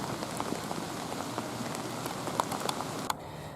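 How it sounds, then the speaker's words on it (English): Rain falling steadily outdoors during an October evening archery hunt, a soft continuous patter with scattered louder drops striking nearby surfaces. "now 15 minutes later it's raining"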